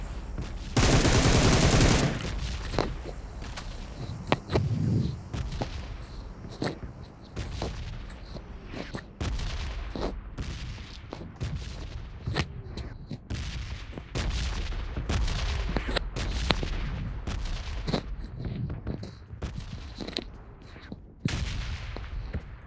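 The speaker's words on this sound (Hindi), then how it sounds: "बंदा खुद ही फायर कर देता है" Rapid bursts and single gunshots ring out in PUBG Mobile on the Livik map, with a loud opening volley followed by repeated sharp shots and short automatic bursts throughout.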